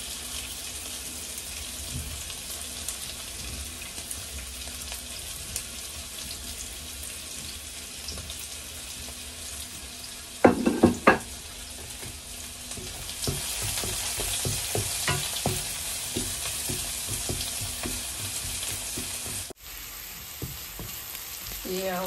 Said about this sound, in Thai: เจียวหอมกับกระเทียมนะคะแถมใส่พริกเม็ดไปด้วยจ้ะพริกแห้งนะคะ